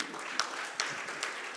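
Applause from the audience at a Jain religious Q&A gathering honouring guests, a steady broadband patter with a few sharper claps standing out, fairly quiet and continuous throughout.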